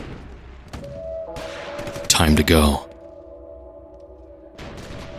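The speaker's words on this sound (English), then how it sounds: "I can hear the gunshots. My company must have begun another advance." Gunfire from an advancing army company cracks in a dense burst mid-clip, layered over a droning tonal hum, with someone speaking briefly near the start.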